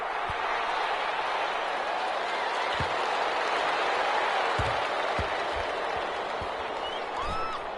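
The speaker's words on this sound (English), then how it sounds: "How about some applause for the defense there?" Steady crowd applause at an American football game fills the whole stretch, a dense wash of clapping and cheering at even loudness with a few low thumps underneath.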